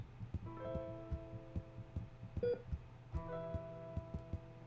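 Heart monitor in a video game emits a steady, regular pulse of low thumps and electronic beeps, repeating rhythmically with a brief higher tone midway, close and clear with no talk.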